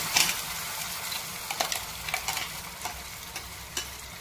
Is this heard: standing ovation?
no